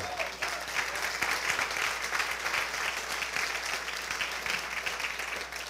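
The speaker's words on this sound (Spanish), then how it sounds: "Dele un aplauso al Señor, hermano." A church congregation applauds together during a service, a continuous, evenly textured roar of many clapping hands lasting several seconds at moderate loudness, with no speech over it.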